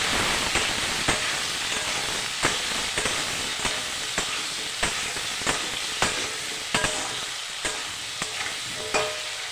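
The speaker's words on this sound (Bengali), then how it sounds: "পেঁপে আলু দিয়ে দিয়েছি, দিয়ে লবণ হলুদ দিয়ে ভালো করে একটু ভেজে নেব" Papaya and potato pieces fry with salt and turmeric in a pan after cumin seeds are tempered, a constant sizzle broken by regular sharp scrapes and knocks of a spatula stirring, close and alone.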